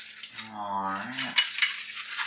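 Small metal tools, a screwdriver and a little wrench, handled while unboxing a Pit Barrel Cooker: light clinks and jingling taps near the microphone, with a brief voiced tone in the middle.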